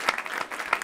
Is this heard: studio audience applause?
yes